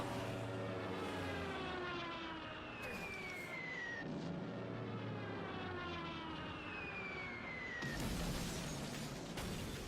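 WWII-era bomber and fighter planes, Luftwaffe aircraft, in an anime battle scene from Izetta: The Last Witch: a dense, continuous engine roar with descending whistling sweeps and a loud sudden burst near the end.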